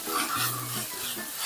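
Green chilli paste frying and being stirred in a pan for a hotel-style cabbage curry, a soft continuous sizzle with scraping strokes of a spoon against the pan, close and steady.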